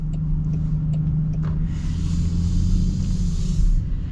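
A 2025 Land Rover Defender Sedona on the move, with a steady low road and engine rumble throughout and a slight rise in wind and tyre hiss partway through, no talk.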